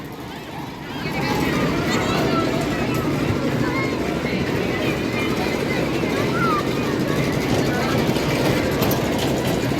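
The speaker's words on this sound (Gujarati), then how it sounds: "ટ્રેન" A jumping-train ride at a school funfair runs steadily with a continuous rumbling clatter, close and loud. Crowd noise and voices mix in throughout.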